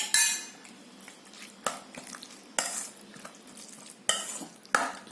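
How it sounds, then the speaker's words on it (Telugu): Curd stirred into grated carrot and beetroot in a metal bowl makes repeated scraping clinks of a spoon, several distinct strokes a second or so apart, close and clear without talk. "అలా పెరుగు కలిపేసుకోండి"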